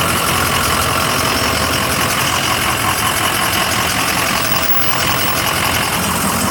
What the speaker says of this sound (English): Nobody's gonna be able to hear you over this truck.